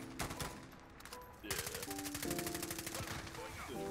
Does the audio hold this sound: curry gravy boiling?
no